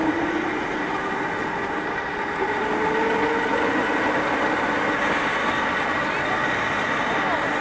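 A model train locomotive runs at a model railway exhibition with a continuous motor whine and rolling hum that rises gradually in pitch, steady and close throughout.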